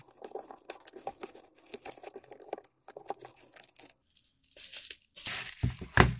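A comic book package is torn open in a run of close papery rips and crinkles, pausing briefly before a louder crackling tear at the end.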